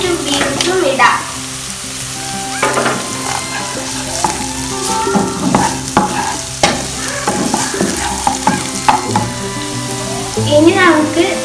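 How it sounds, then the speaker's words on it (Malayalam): Carrots and beans are stir-fried with onion and chilli in a pan for pineapple fried rice, giving loud close sizzling broken by repeated rhythmic scraping and stirring strokes, with no talking. "ഉള്ളിയും മുളകും കൂടി ഒന്ന് കുറച്ച് വഴറ്റിയെടുത്തതിന് ശേഷം നമുക്ക് ക്യാരറ്റും ബീൻസും ഇടാം"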